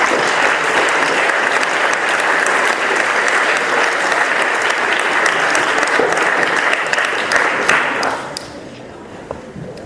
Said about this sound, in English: Please, a huge round of applause for Dr.